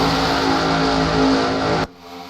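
A race car at Atlanta flies past close and loud, a rising engine roar that cuts off abruptly near the end, leaving faint track noise.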